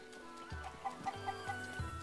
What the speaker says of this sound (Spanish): los cucos ya se han vuelto a escapar